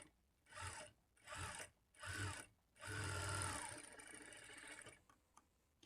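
Electric sewing machine stitching the lining of a blouse, running in four short whirring bursts followed by a longer steady run that trails off, close up with no speech.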